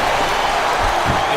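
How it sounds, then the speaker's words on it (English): A dense, steady roar of a capacity arena crowd cheering at a wrestling match in the video game WWE SmackDown vs. Raw 2007, loud and continuous with no breaks. "It sounds like this capacity crowd has something on their minds, Taz."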